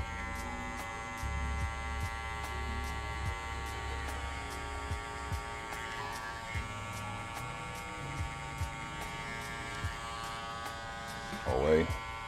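Electric hair clippers cut a taper fade, giving a steady close buzzing hum with a faint regular ticking, and a brief louder scrape near the end.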